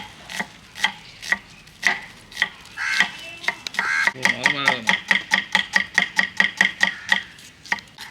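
A knife cutting food on a board, with close, sharp chops at first spaced out, then quickening into a rapid even run of strikes, while people talk in the background.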